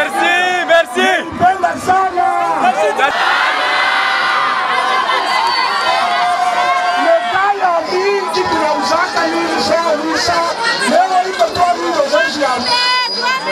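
Huge crowd welcoming a politician's arrival from the airfield in Kamina, loud continuous cheering, shouting and high-pitched ululating voices, with brass band fanfare blending in, dense and close throughout.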